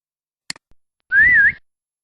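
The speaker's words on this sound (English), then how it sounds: "Whistle." After a few soft clicks, a person whistles one short, wavering note, clear and close.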